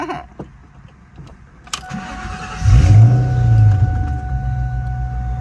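A 2004 Ford Mustang Cobra cranks and fires up, rising into a loud, deep rumble that settles into a steady idle, close by with no talk.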